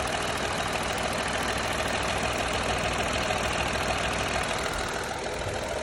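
A Renault Triber with 69,000 km on it idles during a carbon-cleaning treatment, giving a loud, continuous, even engine drone that holds steady throughout with no talk.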